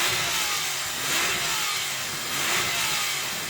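Loud, steady revving from a Porsche 911 Turbo 997 swells gently twice as the throttle is held and blipped, the engine close and alone without speech.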